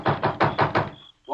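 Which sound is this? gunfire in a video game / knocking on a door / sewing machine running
knocking on a door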